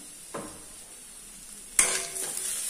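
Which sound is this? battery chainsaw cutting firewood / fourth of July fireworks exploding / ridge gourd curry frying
ridge gourd curry frying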